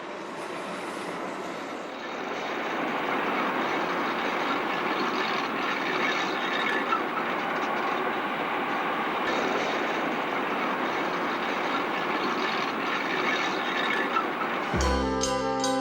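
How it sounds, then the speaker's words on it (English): Steady loud rumbling roar of a DM3 electric iron-ore locomotive rolling out of the Kiruna sheds in 1960, continuous and broadband with a sharp change near the end. "A new DM3 rolls out of the Kiruna sheds in 1960."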